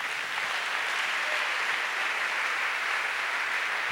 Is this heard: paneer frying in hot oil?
no